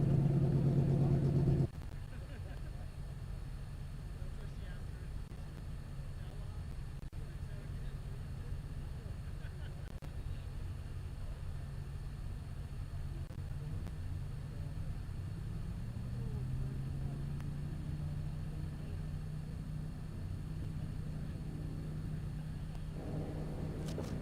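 A race car, number 416, runs at Speedweek: a faint, steady low engine drone that climbs slightly in pitch midway, after a louder opening moment.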